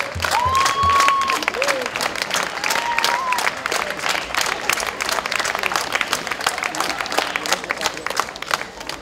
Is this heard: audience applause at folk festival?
yes